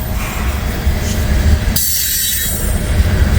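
An ethanol train rolls past with steady rumbling wheels on the rails and a bright metallic squeal joining partway through, loud and close.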